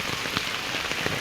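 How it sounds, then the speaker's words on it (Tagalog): Steady rain pours without pause onto a garden, a dense continuous patter with scattered louder drops, close and even throughout, no voices. "wala namang tigil ang ulan"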